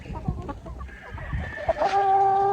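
Farmyard chickens clucking in a few short calls, with a rooster-like tone rising near the end, fairly close amid light outdoor background noise.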